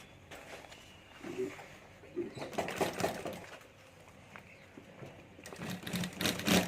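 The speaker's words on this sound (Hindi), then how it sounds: "अब यहाँ से हमें सिलाई शुरू करनी है" A sewing machine runs in uneven bursts while stitching a handmade handbag at home, the motor whirring close by with short pauses and handling noises between runs.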